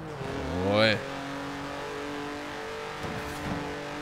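Engine revs climb sharply then cut back as a roadster drifts in the racing game Forza Horizon 4, followed by a sustained engine drone with a couple of faint bumps.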